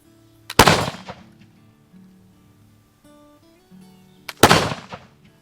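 Two loud, sharp black-powder reports from a double flintlock pistol firing birdshot at a jug outdoors, each with a short crackling decay, spaced about four seconds apart in otherwise quiet surroundings.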